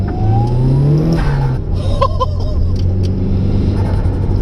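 A modified Mitsubishi Evo 5 pulls hard down the road, its engine droning low and steady with a rising rev tone, loud and close from inside the cabin with no talk.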